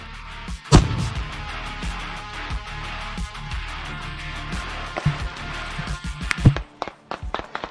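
A sharp, booming grenade blast punches out early amid rough outdoor noise in a forest, followed by scattered thuds and bangs at irregular intervals.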